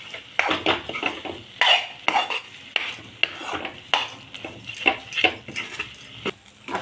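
Chana dal mixture with coriander leaves is roasted dry in a pan, the spoon scraping and clinking against the metal in a steady, irregular run of close, loud strokes.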